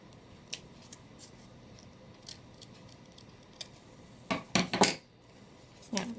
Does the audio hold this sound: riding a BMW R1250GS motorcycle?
no